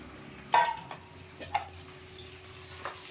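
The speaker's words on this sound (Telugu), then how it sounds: "వాటర్లో నానేసిన ములక్కాయలు వేస్తున్నాం" Water-soaked drumstick pieces dropped into a hot pan with onions, giving a sharp burst of sizzling as they hit, then a faint, low crackle with a couple of small clinks.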